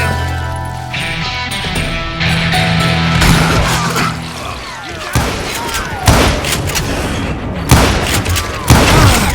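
Western gunfight in Call of Juarez Gunslinger: rapid irregular gunshots and booms crack in bursts over a rumbling background, getting sharper and louder toward the end, with faint shouting mixed in.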